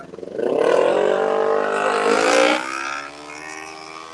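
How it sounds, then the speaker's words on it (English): A small 250cc engine roars loudly past, close by, its buzzing pitch climbing as it revs and then dropping away as it moves off. "smallest engine in Richmond is the loudest thing"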